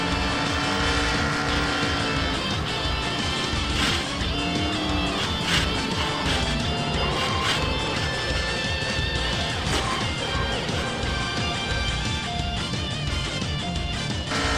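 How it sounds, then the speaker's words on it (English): Onboard view of a race car crashing in a racing video game at Rockingham. A loud, continuous engine roar carries throughout, with a few harsh impact-like bursts mixed in. "Here's what that crash looked like from the onboard of Nick Pericles."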